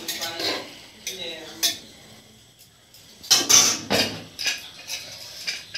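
Metal pot clattering and clinking as chicken meat goes into a pressure cooker, several sharp knocks and scrapes separated by quiet gaps, close and fairly loud.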